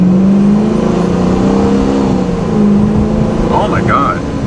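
A Procharged Dodge Scat Pack, driven slowly in valet mode, gives a steady, loud, close engine drone that holds an even, low, humming pitch throughout, with a brief faint higher chirp near the end.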